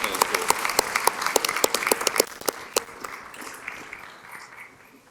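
A school board meeting audience applauds with brisk, dense clapping that is loud at first, then thins into scattered claps and fades out over about five seconds.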